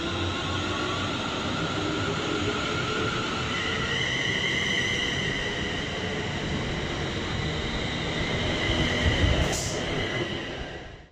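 A train at a railway station, a continuous rumbling hum with faint tonal whine that swells slightly and then fades out at the end, plus a brief sharp knock near the close; no voices.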